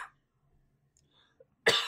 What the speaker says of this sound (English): I just didn't know how much coughing I had to do